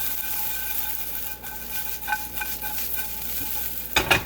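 Shredded potato strands frying in a pan for a breakfast burrito, a steady continuous sizzle with soft stirring and scraping, a sharper clatter near the end, no talking.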